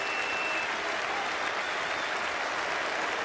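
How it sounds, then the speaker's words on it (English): Steady, dense applause from a large cricket crowd greeting the end of an innings in an England match, a continuous wash of clapping with no gaps. "It's a rousing applause."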